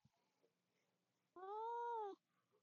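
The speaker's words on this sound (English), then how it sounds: "Was that a cat or a child? It was my baby kitty cat." A pet cat lets out a single clear, drawn-out meow close by, set against a quiet room with faint background noise.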